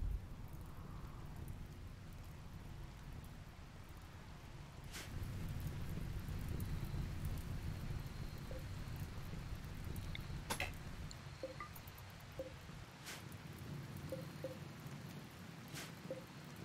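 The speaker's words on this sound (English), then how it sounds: "Rain!" Steady rain with occasional thunder in the video game RimWorld, a constant soft wash with a few faint cracks and rumbles and no talk.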